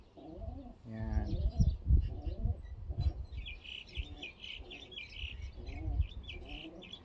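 Long-distance racing pigeons in a New Zealand loft coo in soft, repeated throaty bursts, mixed with higher chirps and twittering from other birds nearby.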